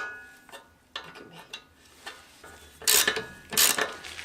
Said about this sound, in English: I can tighten the big axle bolts